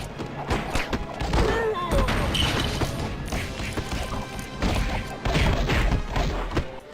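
Goons getting punched in the LEGO Batman video game, a dense run of loud smacks, thuds and crashes with game music and effects layered throughout.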